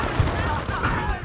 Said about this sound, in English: That was an RPG.